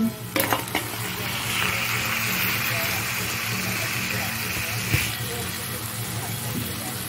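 Tomato and ground spices go into a hot frying pan, giving a steady sizzle with a couple of sharp clatters at the start and another knock near the end, while a voice talks over the cooking.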